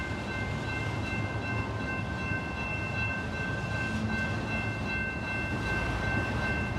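A train passing in Plymouth, Michigan, a steady, continuous rumble of rail cars with a faint high whine running throughout, moderately loud and unbroken, with no talk.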